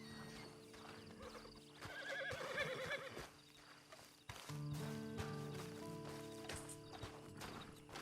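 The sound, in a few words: horse neighing and hooves clip-clopping in Red Dead Redemption 2 video game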